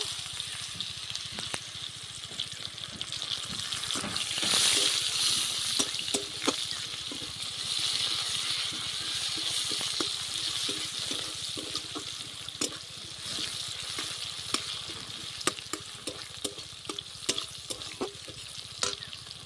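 Hing and chopped onion frying in hot oil in a village kitchen, a steady close sizzle with a burst of hissing early on and repeated scrapes and taps of stirring throughout.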